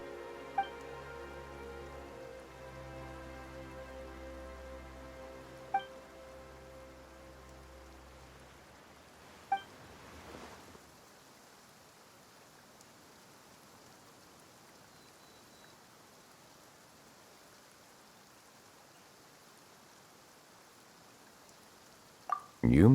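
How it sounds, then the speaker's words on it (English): Steady rain falls in the Genshin Impact video game, a soft continuous hiss that takes over after a tonal musical passage fades out around the middle, with a few faint clicks and a louder knock at the very end. "Why is it raining all of a sudden?"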